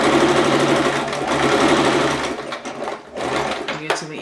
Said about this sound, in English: I'm just guiding it through the machine without putting a lot of pressure or tension on it.